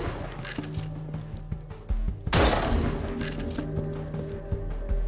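Gunfire in the zombie shooter No More Room in Hell: quick, close shots and short bursts, with one loud, heavy blast in the middle and rapid firing continuing afterward.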